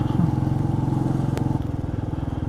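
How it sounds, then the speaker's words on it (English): Royal Enfield Meteor 350 motorcycle riding through small villages, its exhaust giving a steady, close, pulsing low thump with even rapid beats and a brief click partway through. "Just absolutely loving how my bike is sounding and the exhaust sounds, and especially through these little villages and things."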